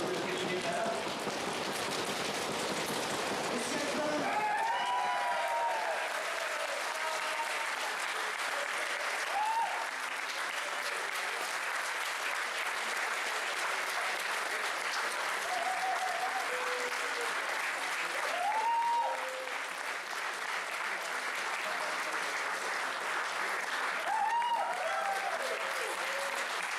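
A crowd at the Ardacon 2018 tabletop gaming event in Rotterdam applauds the world champion, with loud sustained clapping and occasional cheers that last throughout while a host speaks over it.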